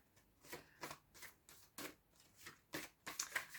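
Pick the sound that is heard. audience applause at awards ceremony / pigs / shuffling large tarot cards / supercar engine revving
shuffling large tarot cards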